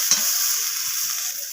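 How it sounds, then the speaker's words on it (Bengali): Spices being sautéed with onion and tomato in a pan for a thin fish curry with potato and eggplant, a steady loud sizzle with a brief stirring scrape near the start and soft clicks throughout. "তো সমস্ত কিছু মশলা আমি পেঁয়াজ আর টমেটোর সাথে কষিয়ে নিচ্ছি।"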